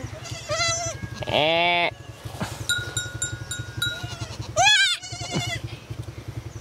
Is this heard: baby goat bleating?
yes